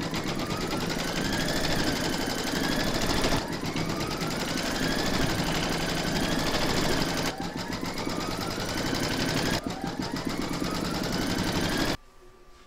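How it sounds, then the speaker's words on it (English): Embroidery machine stitching the placement outline for a large reindeer applique in a hooped fabric, a steady loud mechanical whir with short pauses and faint rising tones, continuous until it stops near the end. "load your hoop into your machine and stitch round number 1"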